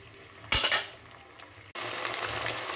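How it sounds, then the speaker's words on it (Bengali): Ginger and green chilli paste masala is sautéed in a pan: a spoon clatters loudly for a moment, then a steady close sizzle and frying hiss builds, with no voices. "এইবারে আদা আর কাঁচা লঙ্কাটা দিয়ে আমি 2 থেকে 3 মিনিট একটু মশলাটা কষিয়ে নেব"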